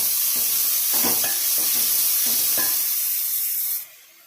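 Two medium onions, finely chopped, sauté in a pan for an egg gravy, a steady high sizzle with a few soft stirring scrapes before the hiss suddenly drops near the end.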